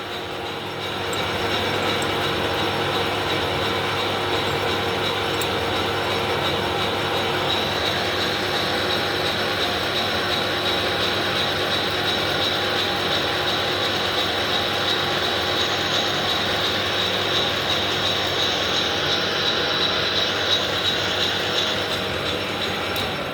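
A handmade slotted milling table mechanism in a workshop is being moved, giving a continuous steady mechanical grinding and rattling hum with faint clicking, sustained and fairly loud, with no speech.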